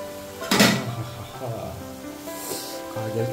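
Vegetables cooking in a pan on a gas stove give a soft sizzle, with a sharp scrape of a spoon stirring near the start and lighter utensil clinks later, fairly quiet and close.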